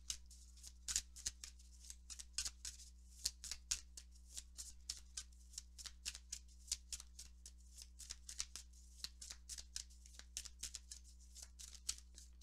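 Tarot cards are shuffled and drawn by hand in repeated quick riffling bursts, crisp papery flicks and slaps coming in an uneven rhythm, close and quiet against a faint low hum.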